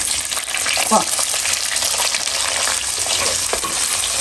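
Curry leaves and cumin fry in a clay pot while fish curry is made, giving a loud, steady, crackling sizzle with bursts of spitting throughout and no voices.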